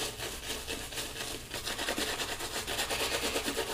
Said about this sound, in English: go and start building the lather.